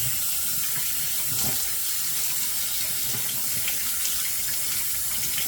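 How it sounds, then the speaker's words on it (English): Water runs steadily from a tap into a bowl during soap making, a continuous loud rushing stream with no talking. "And get some more water in here."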